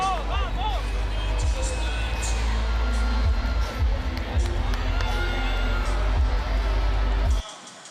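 A home crowd in Brazil roars and whoops for skateboarder Rayssa Leal at the 2024 Super Crown, a loud, dense wall of cheering and shouting that cuts off abruptly near the end.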